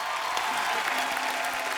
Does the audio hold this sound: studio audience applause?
yes